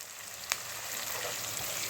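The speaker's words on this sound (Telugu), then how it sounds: "మనం నూనెలోనే వేయిస్తున్నాం కాబట్టి" Steady, soft sizzling of garlic, onions and green chillies frying in oil, with a couple of sharp little pops and a faint stir near the end.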